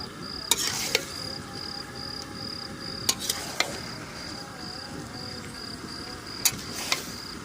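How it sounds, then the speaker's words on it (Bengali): Mutton with coriander powder is stirred in a pan, a soft continuous sizzle under a few sharp scrapes and clinks of a spoon against the metal, with a faint steady whine in the background. "ফির আবার এটাকে নাড়িয়ে চাড়িয়ে মিক্স করে দিতে হবে মাংসের সাথে।"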